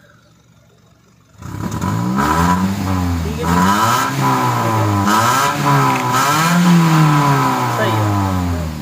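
A Toyota Corolla GLI 2017 fitted with an HHO kit revs its engine up and down repeatedly after a quiet start, rising and falling mid-pitched engine tone close by, with someone speaking briefly over it.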